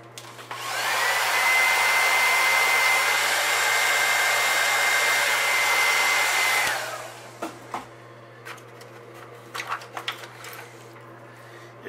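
A hair dryer or heat gun blows steadily at close range for about six seconds to heat-set fresh paint on a handmade pumpkinseed-pattern crankbait fishing lure, then cuts off, leaving faint handling clicks.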